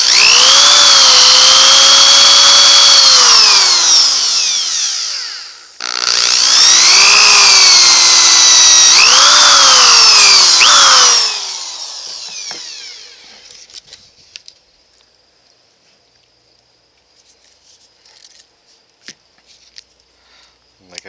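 A power drill bores two holes in a wooden woodland headdress frame, two close, loud whining bursts with a brief pause between them, followed by quiet and a few small handling clicks.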